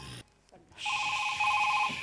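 A phone rings with a repeating electronic ringtone, a steady trill of bright beeping tones that rises in volume partway through, close and fairly loud.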